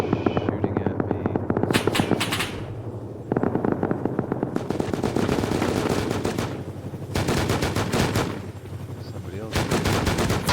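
Video game gunfire aimed at the player, with sustained rapid bursts of automatic shots and short pauses between volleys, loud and close against a steady low background hum.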